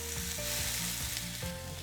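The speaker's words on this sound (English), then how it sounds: "Yeah, you wanna get the sizzle," Food sizzles steadily in a very hot grill pan coated with avocado oil, a close, continuous frying hiss with no speech over it.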